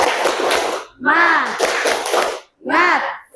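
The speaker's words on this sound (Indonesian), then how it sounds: "Tepuk semangat." Group of children clapping a rhythmic spirit clap in a classroom, short bursts of patterned claps in three groups with chanting voices over them, close and loud.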